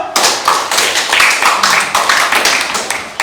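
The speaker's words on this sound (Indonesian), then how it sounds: "berikan tepuk tangan dulu" A classroom group claps for a student group presentation, a short burst of loud, close clapping lasting about three seconds with slightly uneven rhythm.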